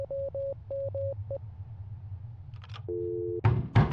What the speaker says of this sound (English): what sounds like maybe Morse code or something?